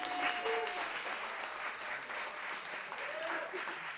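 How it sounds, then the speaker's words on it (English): Comedy show audience applauding and clapping for a comedian taking the room, a steady wash of claps held for the full stretch, with some faint voices mixed in. "All right, everybody, make some noise for Andrew Helfrich."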